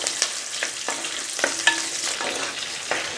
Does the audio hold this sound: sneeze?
no